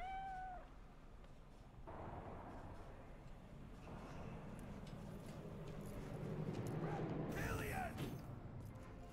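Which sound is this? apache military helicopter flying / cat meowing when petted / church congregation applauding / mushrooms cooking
cat meowing when petted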